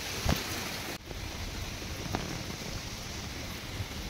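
Heavy rain pours down in a steady, even hiss of falling water, with a few louder drops or knocks standing out now and then, and no one talking.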